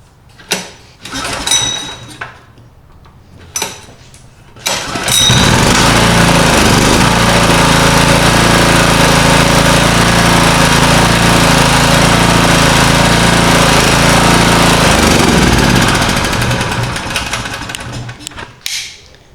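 A vintage Coleman Powermate generator with a new air filter and rubber feet is pulled over a few times, catches, and runs loud and steady for about ten seconds before shutting down.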